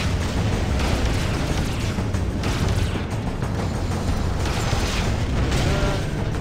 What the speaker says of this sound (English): Incoming missile. Just dodging missiles in mines.